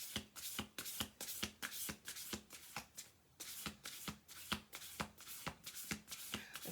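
A deck of cards is shuffled over and over, giving quick bursts of papery riffling and soft taps in a steady repeating rhythm, close and fairly quiet.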